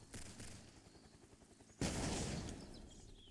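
Grenade launcher fire in the Ton Battle Ground shooter game: a patter of small shots, then one sharp loud blast that rings out and slowly fades.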